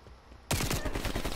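Rapid automatic gunfire from Call of Duty: Black Ops Cold War erupts abruptly after near-silence, a loud, close burst of many quick shots in steady rhythm.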